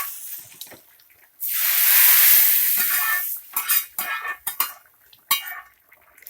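Tempering of spices poured into simmering greens sambar, a loud burst of sizzling and spitting oil, followed by clattering of a ladle against the pot as it is stirred in short bursts.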